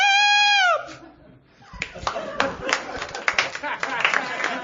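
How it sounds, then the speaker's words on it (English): Following a sustained vocal tone, a live comedy podcast audience breaks into scattered, uneven clapping mixed with some laughter that builds loosely over a few seconds. "You guys are clapping wearily like anyone asked you to clap."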